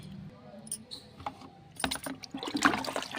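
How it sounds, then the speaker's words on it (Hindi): Water poured into a compost mix of aloe vera and dung, splashing and trickling in short bursts that grow louder toward the end, with faint background sounds. "अब इसमें डाल दूँगी मैं थोड़ा सा पानी"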